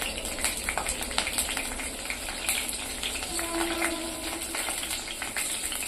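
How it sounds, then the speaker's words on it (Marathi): Green chilies frying in hot oil in a pan for egg bhurji, giving a steady, close sizzle with scattered crackles and pops. "आता मी हिरवी मिरची घालून घेते आहे।"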